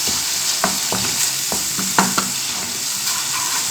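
Spiced masala with a little turmeric sizzles steadily in hot oil in a pan, broken by several sharp scraping stirs close up, with no talk.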